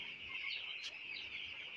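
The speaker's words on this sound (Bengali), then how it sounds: "এগুলো হচ্ছে আমাদের প্যারাগন বাচ্চাগুলো।" A flock of fourteen-day-old Paragon chicks keeps up a faint, continuous chorus of high peeping and soft clucks.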